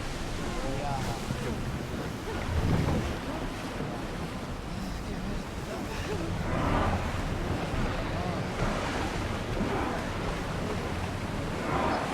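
An ancient Greek ship sailing at sea in Assassin's Creed Odyssey: a steady wash of waves and wind against the hull, with a low rumble and swells rising and falling, and no voices.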